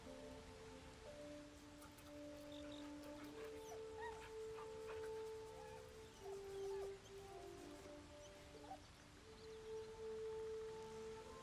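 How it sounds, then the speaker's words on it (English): A dog in the video game Baldur's Gate 3 whimpers and yips in thin, wavering whines over a soft patter of rain, fairly faint, with no voices. "Bark."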